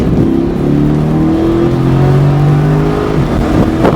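Car on a racing track with cones: engine revs climb as it accelerates out of a turn, a loud close drone rising and falling in pitch.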